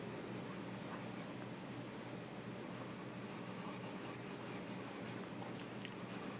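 A fountain pen nib scratches across paper in a quiet, continuous hiss with faint irregular strokes, close and alone.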